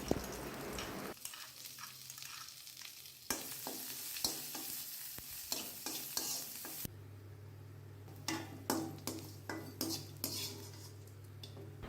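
Fifteen crushed, unpeeled garlic cloves roast in oil in a pan with a gentle sizzle, punctuated by repeated clinks and scrapes of a metal spoon stirring against the pan, no voices.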